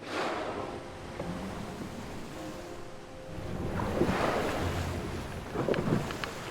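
Out on the open Atlantic, far off the Irish coast aboard a RIB, ocean waves rush and splash continuously while wind buffets the microphone, with surges of louder surf toward the end.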